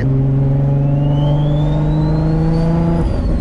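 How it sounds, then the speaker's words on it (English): A turbocharged 600 WHP Infiniti G35 coupe engine holds a loud, steady drone while a thin turbo whine rises gradually in pitch above it, with no talk. "the turbo spool on this thing is hilarious"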